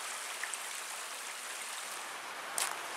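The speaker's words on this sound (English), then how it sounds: "It's another nice stream." A stream flows beside the Superior Hiking Trail, heard as a steady, faint rushing hiss with no break.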